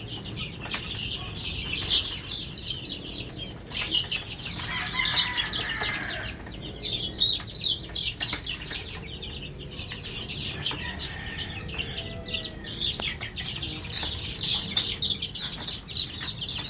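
Baby chicks cheeping steadily while being handled before vaccination, a chorus of high, rapid peeps close by, continuous throughout with soft rustling underneath.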